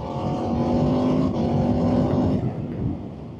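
An Aprilia RSV4 1100 Factory sport bike under way, its engine a loud, steady rev-limited drone with a whining tone, dipping slightly near the end.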